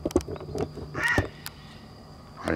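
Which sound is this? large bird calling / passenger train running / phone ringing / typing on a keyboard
large bird calling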